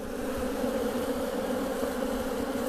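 Honey bees in an open hive buzz in a dense, constant hum, close and steady, many insects droning together without a break.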